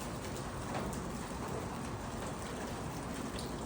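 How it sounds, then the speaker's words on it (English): Moderate rain during a spring thunderstorm in Lubbock patters steadily on metal gutters at a house, a dense, even wash of drops close by with no voices. "if you hear that rain hitting the metal, that's it hitting the gutters"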